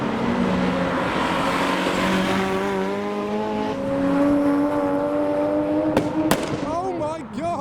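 A Toyota Supra drives past at a drive-by car show with engine noise rising and shifting in pitch as it passes nearby, amid crowd chatter and a few sharp bangs.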